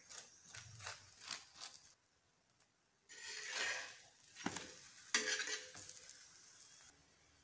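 Green pea paratha roasts in ghee on a hot pan, soft sizzling in bursts with spatula scrapes and pressing sounds, close and fairly quiet, pausing briefly midway before resuming.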